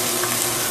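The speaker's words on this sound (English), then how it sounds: "I'm going to add the hamburger steaks into the bottom of the pan." Hamburger steak patties sear in a hot pan on medium-high heat, a brief, dense, steady sizzle with no talking.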